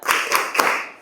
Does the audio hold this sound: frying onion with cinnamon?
no